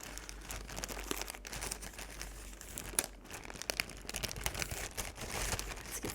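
A Ziploc bag of Q-tips is crinkled and squeezed up close, a soft continuous plastic crackle with irregular sharper crinkles, quiet and alone.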